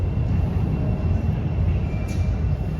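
A Thameslink train sits in a station, giving a steady low rumble and hum close by, with a brief faint hiss partway through.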